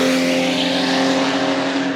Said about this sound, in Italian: è un rumore che è l'impronta stessa del 6 cilindri Alfa Romeo